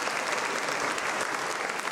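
An audience claps steadily in a dense, continuous burst of applause during a televised program on Campidano traditions.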